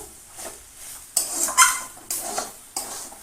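Thick, sticky cooked taro leaves with fish head and a pinch of sugar are stirred in a pan: four distinct scraping strokes of a utensil against metal over a faint sizzle.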